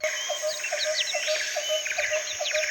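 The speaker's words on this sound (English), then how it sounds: "bird calls." Busy overlapping chirps and whistled bird calls, quick repeated notes from several birds, bright and continuous against a constant hiss.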